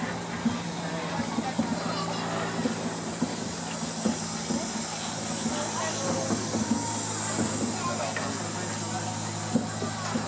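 A DB class E10 electric locomotive, number E10 121, rolls past in a locomotive parade at the DB Museum Koblenz summer festival, giving a steady rumble and rail noise with a hiss, while people talk in the crowd nearby.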